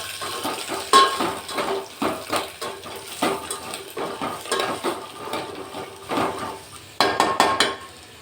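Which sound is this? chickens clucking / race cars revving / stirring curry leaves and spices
stirring curry leaves and spices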